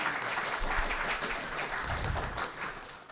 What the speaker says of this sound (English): Light claps.